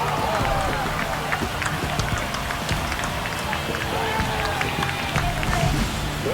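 A baseball stadium crowd in a video game roars steadily after a home run against the Mariners, a dense continuous cheer with a commentator talking over it.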